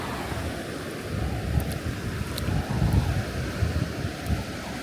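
Strong wind buffets the microphone on a wet sandy beach in the Shetland or Aberdeen area of Scotland, a continuous rumbling roar with gusts swelling and easing, with surf mixed faintly underneath and no talking.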